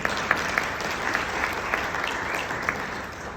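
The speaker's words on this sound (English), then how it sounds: "A little round of applause for everyone in the room" Steady applause from a conference audience in a large room in Barcelona, 2023, even and sustained throughout at moderate distance, with a few sharper individual claps standing out.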